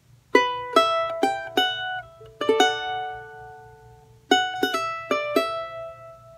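Plucked charango melody phrase from an Andean tune, a string of bright single notes in two bursts with a pause between, some notes ringing longer, played close and alone.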